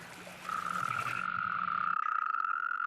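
A steady, continuous croaking drone from frogs and toads in spring, fairly loud and close, with a layered chorus early on that thins to a single sustained trill.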